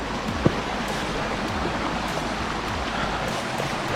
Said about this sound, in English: I love listening to the sound of the running water